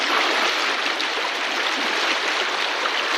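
Strong river current rushing close by, a dense, steady roar of flowing water with no pauses.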